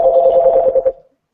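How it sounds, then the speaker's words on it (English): A mobile phone rings during a call as a steady electronic tone, close and fairly loud, holding for just under a second before it cuts off into silence. "Somebody's phone. Yeah, I'm sorry, that's my phone."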